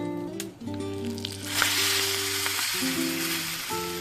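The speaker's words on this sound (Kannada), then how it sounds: "ಇದಕ್ಕೆ ಹಿಂಗಿನ ಒಗ್ಗರಣೆ ಹಾಕೊಳ್ಳೋಣ ಬನ್ನಿ" Tempering spices crackle and sizzle in hot oil for a Brahmin-style huli tovve lentil dish, a steady bright hiss that swells from midway and holds continuously, with no voices present.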